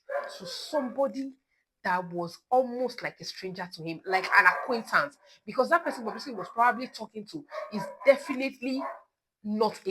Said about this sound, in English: I'm so sorry for this dog barking.